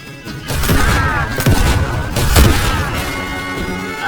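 Loud, dense gunfire and booming impacts from the Roblox game Dead Rails crackle continuously for several seconds, with no voices over them.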